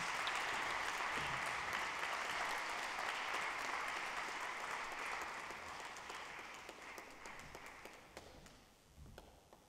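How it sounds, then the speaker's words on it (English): Symposium audience applause for a speaker, dense and steady at first, then gradually thinning to scattered claps that fade away near the end. "Let's give Alistair a round of applause."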